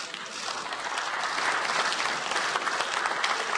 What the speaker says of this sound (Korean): 의원들이 모두 일어나 박수를 칩니다.